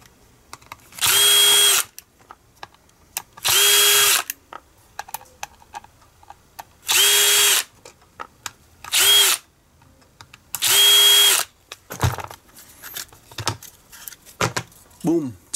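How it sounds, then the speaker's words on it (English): A cordless power driver backs screws out of a compact power-tool battery's plastic cover in five short, loud, high-pitched whirring bursts, with clicks, rattling and handling noises of parts between them. "let's tear this down and remove the plastic cover. There are only four screws."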